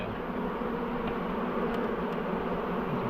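A honey bee swarm being removed from a building eave hums as a steady, faint, continuous drone with no talking.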